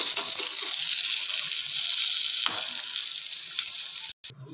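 Mirchi bajji, battered chilli fritters with masala stuffing, frying in hot oil, giving a steady loud sizzle and crackle close by that holds throughout before a brief drop near the end.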